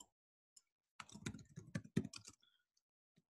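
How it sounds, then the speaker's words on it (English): Quick typing on a computer keyboard, a fast cluster of close clicks and key taps lasting over a second, with a few isolated taps before and after in near silence and no talk. "Again, you can see my quick typing when I'm nervous."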